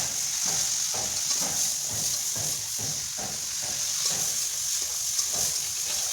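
Pabda fish curry being sautéed over a wood or solid-fuel fire rather than gas, with a steady close sizzle and a repeated rhythmic scrape of stirring in the pan.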